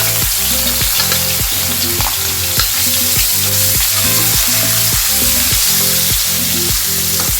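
Onion fries in oil with cumin, curry leaves and mustard seeds, a loud, constant sizzle hiss running beneath a repeating rhythmic musical pattern.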